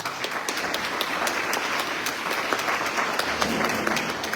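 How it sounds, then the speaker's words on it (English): Audience applause at an evening candidate forum in Bedford, thanking two school board candidates: steady, dense clapping from a large room, sustained at even loudness throughout without voices. "You are welcome to give both candidates a round of applause."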